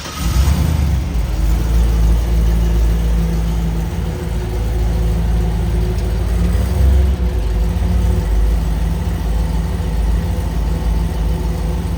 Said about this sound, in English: driving the daily down to the shop to get the race car to go to the track or street